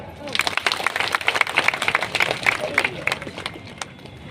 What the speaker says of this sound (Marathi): सर्वांसाठी सर्वांनी टाळ्या वाजवा